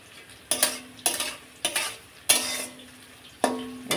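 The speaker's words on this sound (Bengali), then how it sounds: "আর এদিকে হচ্ছে উচ্ছে আলু ভাজা। উচ্ছে আলু ভাজাটা প্রায় হয়েই এসছে।" Bitter gourd and potato frying in a pan, close by, with about five sharp spatula scrapes and stirring bursts in an uneven rhythm over a soft, steady sizzle.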